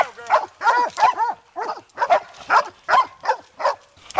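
Hunting dogs bark in repeated close, loud bursts at a wild hog during a Tennessee hog hunt, each bark followed by brief gaps, with some whining yips mixed in.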